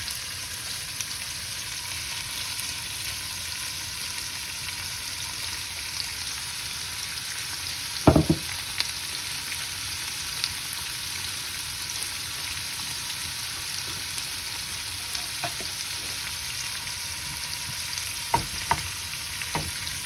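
King prawns frying in a pan for Greek garides saganaki, a steady hiss of oil that continues for a long stretch, with one sharp clatter near the middle and a few soft taps later, no voices.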